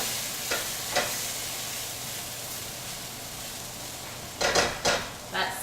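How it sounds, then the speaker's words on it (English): Breaded pork tonkatsu cutlets frying in oil give a faint, steady sizzle, broken by a few light scraping and clinking knocks of a utensil in the pan near the end. "That sizzle though"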